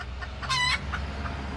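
Chickens clucking during a solar eclipse in California: a single bright, strained cluck-squawk from a fairly close bird rises out of quiet ambient noise, with fainter clucks after it.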